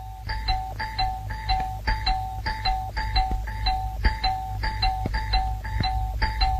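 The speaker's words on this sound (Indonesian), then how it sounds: "Belnya koslet. Bunyi terus." A short-circuited doorbell rings without stopping, a steady run of loud electronic ding tones repeating at an even pace, close and alone with no voices over it.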